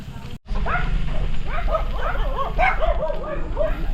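A dog on Cagbalete Island barks and yips in quick, rising and falling bursts, fairly close and loud, over a steady low rumble of background noise during an outdoor bike tour.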